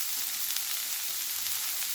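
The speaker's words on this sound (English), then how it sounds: "Add it to the pan and cook it thoroughly. Keep sauteing." Finely chopped green beans sautéing in an open pan, giving a steady, dense hiss of frying that holds even throughout, close and fairly loud, with no voices.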